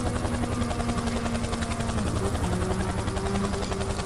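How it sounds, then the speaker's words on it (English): A helicopter flies overhead near a race track, its steady rotor thump pulsing evenly for several seconds at moderate distance with no talk. "I hear a helicopter."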